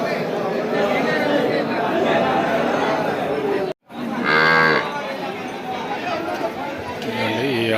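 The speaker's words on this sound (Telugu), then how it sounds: "ఆవు దూడండి ఇది" Cow with her calf at a busy cattle market, a loud nearby moo rising above constant crowd chatter, with people talking throughout.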